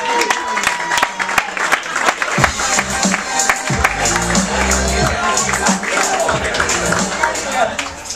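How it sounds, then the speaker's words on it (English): Audience claps and cheers for comedian Justy Dodge at a comedy roast, dense applause from a crowd, loud and close, with a host talking over it. "Clap it up for Justy Dodge."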